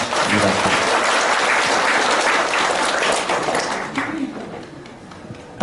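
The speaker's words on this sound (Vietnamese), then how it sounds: "Xin quý vị cho tràng vỗ tay." Audience applause fills a Buddhist ceremony hall: dense, loud, sustained clapping from a large crowd, thinning slightly toward the end.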